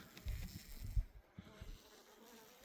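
Honey bees buzz faintly close by at an open hive, a soft hum with a few brief louder bumps, and no talking.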